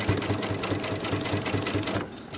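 A sewing machine stitches up onto quilt binding, a loud, close, rapid mechanical chatter running continuously with a steady rhythm.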